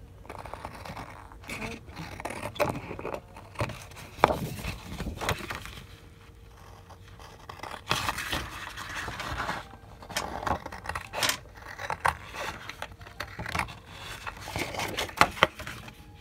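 Craft knife slicing paper for the corners of a handmade album, faint scratchy cuts and small rustles close to the microphone.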